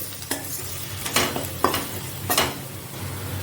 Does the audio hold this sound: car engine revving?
no